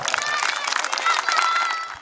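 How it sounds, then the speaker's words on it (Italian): Children and spectators clap and cheer at a youth Fun Football event in Fara San Martino, a steady dense wash of applause with crowd voices mixed in, lasting the whole moment before fading slightly. "Fatemi un applauso!"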